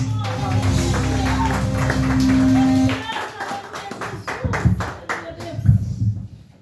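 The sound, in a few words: applause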